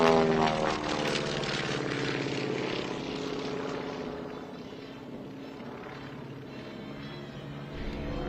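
Twin-engine airplane with two Pratt & Whitney R985 radial piston engines at an air show, a droning propeller roar passing by, loudest at first and then gradually fading with a throbbing beat.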